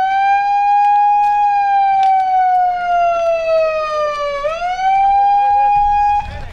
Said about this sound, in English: will sound the siren